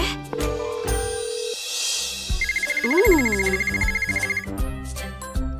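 A mobile phone ringtone plays at a moment of boredom and hunger: a bright electronic chirping trill repeats rapidly for a couple of seconds over a sweeping musical background, clear and fairly loud with no talking.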